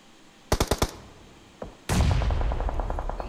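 Rapid bursts of automatic gunfire from a video game match during a training scrim, a quick volley of four shots, a lone shot, then sustained rattling fire with explosive bass, loud and close with no talk.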